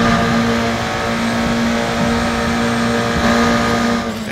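Race car in the Raceroom racing game, a loud sustained engine drone with a steady high whine that holds through the clip and drops away briefly near the end as the car slows.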